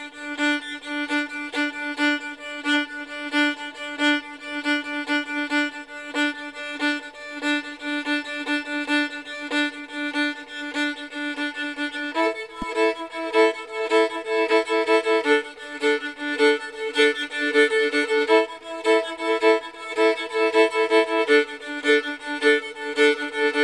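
A fiddle bowed in a lilting jig rhythm plays a steady run of notes that shifts pitch partway through, loud and close with no talking.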